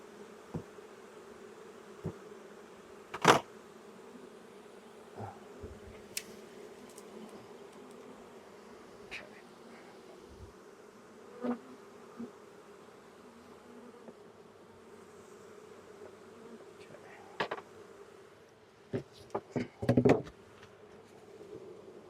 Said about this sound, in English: And I can shake all these bees off.